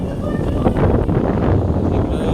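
A night storm with heavy wind and rain batters the microphone as a loud, continuous, close roar of rushing air and noise, steady from start to end.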